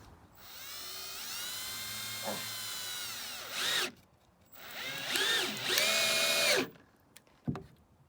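A power drill drives screws into wood while a raised garden box with metal siding is built, its motor whining in several long bursts that rise and fall, with short pauses and a sharp knock near the end.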